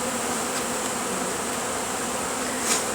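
A honeybee swarm hums inside a family room ceiling, a dense, steady buzz that fills the whole stretch without pause, with one brief swell near the end.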